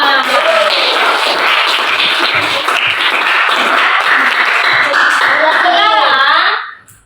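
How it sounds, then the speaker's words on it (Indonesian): A grade VIII classroom of students bursts into sustained, dense applause for about six and a half seconds, then it fades as a voice starts speaking. "Oke, tepuk tangan buat kita semua."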